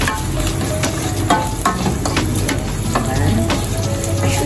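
Garlic sizzling and frying in a pan, a steady broadband crackle with scattered sharper pops and occasional stirring scrapes, close and fairly loud, with no talking.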